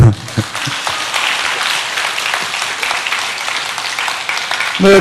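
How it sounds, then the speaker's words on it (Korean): A church congregation applauds during a Sunday service, steady dense clapping filling the room for the whole stretch, loud and close, with brief voices at the very start and end. "박수 한번 칩시다."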